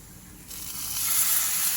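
Tempeh searing in a hot pan as soy sauce is added, a steady hissing sizzle that swells louder after a brief quiet start, close up with no voices.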